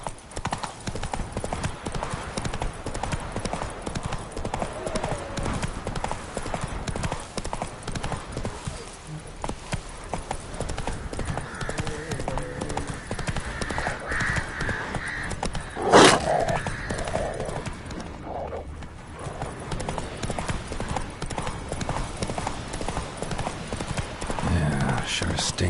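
Roach the horse gallops along in The Witcher game, a rapid steady clip-clop of hooves throughout with a brief snort, while a voice talks over the riding.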